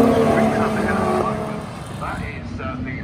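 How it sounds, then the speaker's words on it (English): TVR Tuscan race cars sweep through Paddock Hill Bend at Brands Hatch during a historic racing event, a loud engine roar that fades as they pass, under a commentator's voice. "TVR Tuscans coming through Paddock Hill Bend now."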